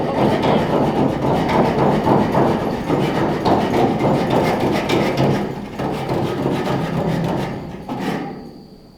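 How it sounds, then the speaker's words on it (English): A hand rasp scrapes along the welded corner edges of a window frame, a dense continuous rough grating with rhythmic strokes, close and loud, fading out at the end. "We're rasping the edges because in the corners where the weld is, it's not exactly a 90-degree corner."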